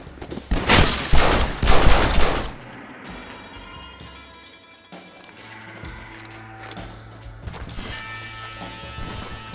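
Rifle shots crack in a rapid burst of several loud reports close by, then fade into ringing echo and lower rumbling with a steady hum.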